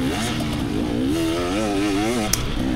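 A 300 two-stroke motocross bike at practice revs loud and close, its pitch rising and falling in a wavering, raspy buzz across the whole stretch, with a brief sharp crack near the end.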